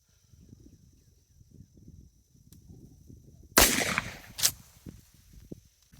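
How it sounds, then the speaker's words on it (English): A 12 gauge shotgun fires a single loud, sharp blast of Winchester Defender copper-plated, buffered 9-pellet buckshot at 5 yards, followed shortly by a second sharp crack, over a quiet outdoor background. "Okay, Winchester Defender copper-plated buckshot, 5 yards."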